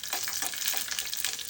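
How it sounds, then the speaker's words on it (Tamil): Peanuts being sautéed in a pan for peanut chutney, a close, steady sizzle with light stirring scrapes throughout. "கொஞ்சமாக வதக்கி எடுத்துருவோம்."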